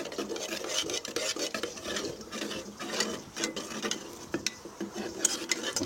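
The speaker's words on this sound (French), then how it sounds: "on va bien mélanger" Adhesive mixture for a car headliner repair is stirred in a container, giving a close, irregular scraping and clicking with quick rhythmic strokes and small sharp knocks, with no voices.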